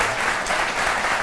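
Television studio audience applauding on a French midday show, a brief burst of full, close clapping from many people, steady and loud for about a second, no speech over it.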